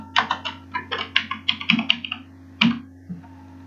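A computer keyboard clicks as a mobile number is typed in, a quick run of crisp, close keystrokes followed by a short pause and then a few more taps, alone over a low steady hum.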